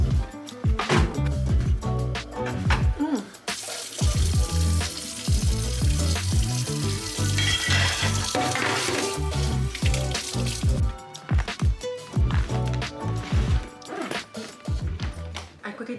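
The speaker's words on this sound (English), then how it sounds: "I quickly did the dishes," Dishes are washed in a home sink, with running water hissing alongside repeated sharp clinks and clatters of crockery, close and fairly loud throughout.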